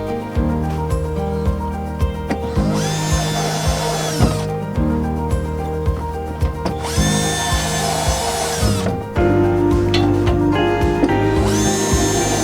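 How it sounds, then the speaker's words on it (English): A power drill whines in repeated bursts, spinning up and biting through the bottom of a plastic barrel several times, loud and close with short pauses between. "So go ahead and drill some holes."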